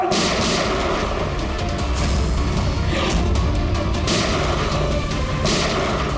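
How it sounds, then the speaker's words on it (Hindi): Loud bursts of gunfire crack out repeatedly over a dense, rumbling background, some shots sharper and closer than others. "ऐसी गोली चलाते रहा तो बहुत देर हो जाएगी सर।"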